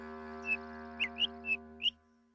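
A little bird chirps five short, high tweets spread over about two seconds, clear and close, above a soft steady musical hum that fades out at the end.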